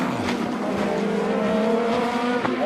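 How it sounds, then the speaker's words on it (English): A race car tumbling in a barrel-rolling crash after catastrophic brake failure, loud and close, with a strained engine howl and sliding, scraping tire noise in one continuous roar. "Catastrophic brake failure leads to this catastrophic barrel rolling crash"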